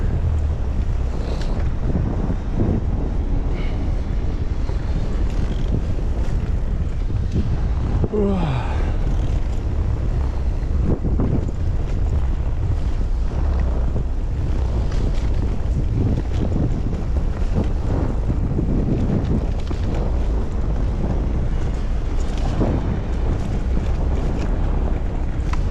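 Steady, loud wind buffeting the microphone on an April ride along the Ordzho–Koktebel–Kurortnoe route in Crimea, a constant roaring rumble with gusty swells and no clear talk.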